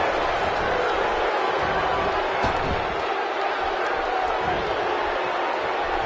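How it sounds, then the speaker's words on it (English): Loud, dense arena crowd roar from the WWE 2K17 wrestling video game, a steady wall of cheering and shouting that holds constant throughout with a few faint slams and whoops rising out of it. "by the sound of this crowd, I think they're getting what they wanted"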